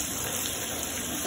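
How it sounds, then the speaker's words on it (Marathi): Slices of bitter gourd fry in hot oil in a pan, giving a steady close sizzle with a brief small pop near the end and no one speaking. "आणि छानपैकी एकदा फ्राय होऊ द्या."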